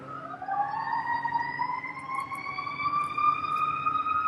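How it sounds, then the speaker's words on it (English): Emergency sirens wail outside in the background, several rising and falling tones overlapping at moderate distance, steady throughout with no talk over them. "I don't know if people hear the sound of the sirens in the back"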